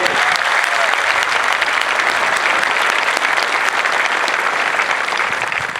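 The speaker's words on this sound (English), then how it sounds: "Please give them a round of applause for what they do today." A large crowd at an Air Force basic military training parade gives sustained, dense applause for the instructors, loud and continuous throughout, tapering slightly at the end.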